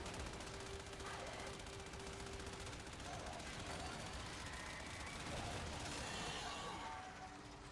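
In the Warframe game, rapid continuous gunfire hammers at a boss, forming a dense, steady wall of shots with faint talk underneath.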